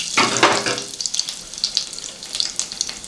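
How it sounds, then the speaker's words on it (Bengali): Black cumin (nigella) seeds crackle and sizzle as they hit hot oil in a kadai, a bright burst of hissing spatter up close that settles into a lighter, uneven fizz with scattered pops. "কড়াতে তেল গরম হয়ে গেছে, এবার আমি এতে কালো জিরে দিয়ে ফোড়ন দেবো।"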